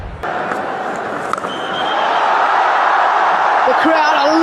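Stadium crowd at a T20 World Cup cricket final between India and New Zealand, a broad continuous roar that swells and stays loud throughout, with a brief whistle-like tone near the end.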